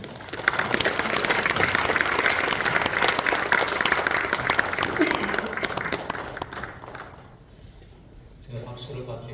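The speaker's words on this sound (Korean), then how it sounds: "다 같이 큰 박수로 환영해 주시겠습니다" A church congregation gives a big round of applause to welcome a guest pastor at a worship service, loud dense clapping for about six seconds that fades out, then a voice begins speaking.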